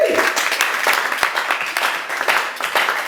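A church congregation applauding, heard as a loud, dense burst of clapping from a crowd that carries on steadily for a few seconds.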